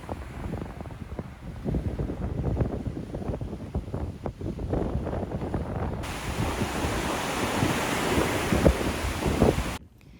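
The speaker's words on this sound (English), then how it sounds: "view the incredible power of the waves crashing against the rocks in a spray that shoots high into the air" Ocean waves crash against black lava rocks on the Curaçao coast, a loud continuous surging roar mixed with heavy wind buffeting, swelling stronger midway before cutting off abruptly.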